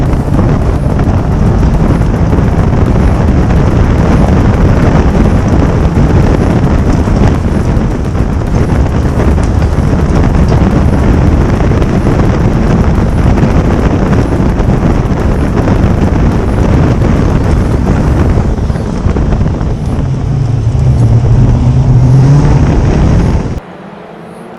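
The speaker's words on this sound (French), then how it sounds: "Nous voici à bord de la Road Sport numéro 69 d'Hugo Le Boucher" Onboard a Caterham Roadsport race car, number 69, racing at the Charade circuit: a loud, continuous engine roar with heavy wind buffeting, steady throughout before cutting off abruptly near the end.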